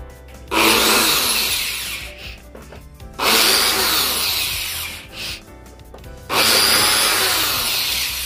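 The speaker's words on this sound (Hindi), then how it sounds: "ये हमने अपना स्क्रू ड्राइवर ले ली है" A power screwdriver backs screws out of the rear panel of a 32-inch LED TV, running in three loud whirring bursts of a couple of seconds each, separated by short quiet gaps.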